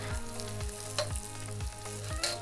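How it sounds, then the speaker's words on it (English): Onions dropped into a hot stir-fry pan of beef and carrot, bursting into a loud, steady sizzle with rhythmic stirring strokes, set against soft background music. "I'm going to put my onions in"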